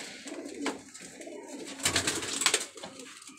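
A silver pigeon coos softly nearby in a series of low, rolling calls that grow a little louder toward the end, with faint background noise.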